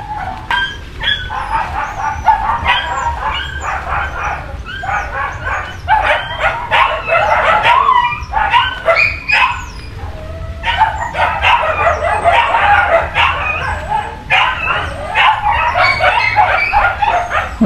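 A dog barking repeatedly in quick yapping bursts, loud and close, with high whimpering yips between runs of barks across the whole stretch.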